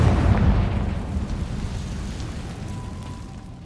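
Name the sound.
Confringo explosive spell in video game Hogwarts Legacy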